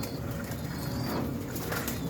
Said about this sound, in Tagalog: ito nga pala yung mga kalapati ko